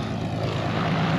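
A propeller airplane taxis on the ground, its engine giving a loud, steady, unbroken drone that fills the whole moment with no voices.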